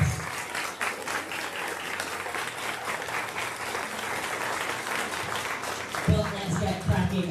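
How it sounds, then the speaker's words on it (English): A crowd applauds at a UK and Ireland natural strongwoman competition, with steady, dense clapping sustained for about seven seconds and a brief louder surge near the end. "So can we all have a round of applause for the 4 men behind UKNS."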